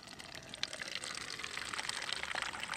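Water is poured from a camping kettle spout through a makeshift filter during an overnight backpacking trip, a soft, close trickling and splashing that continues steadily for a few seconds.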